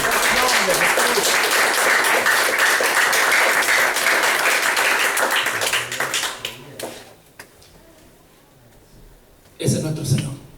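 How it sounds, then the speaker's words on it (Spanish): A church congregation bursts into loud, dense applause that fills the room for about six seconds, then tapers off into quieter scattered claps and voices before a brief loud swell returns at the end. "denle otro aplauso al Señor"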